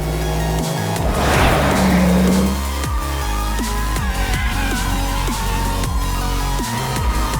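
Test drivers push a car hard through a tire handling test. Engine roar surges and the tires squeal briefly early on, then a steady drive continues with a repeated rhythmic thumping.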